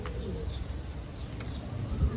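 Soft, low pigeon coos sound close by, with faint chirps and quiet background noise.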